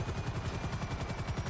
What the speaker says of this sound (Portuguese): Deram um tiro de volta.